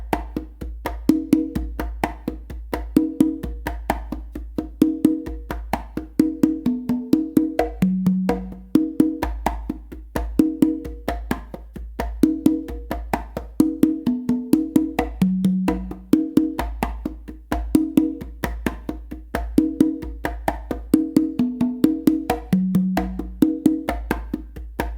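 A spicy melody variation on three congas, with steady rapid slaps and open tones punctuated by deeper tumba notes, played continuously for about twenty-five seconds, close and loud without any talking.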